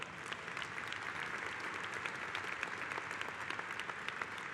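Convention audience applauding union members, a steady, dense wash of clapping from a large crowd throughout, with no one speaking over it.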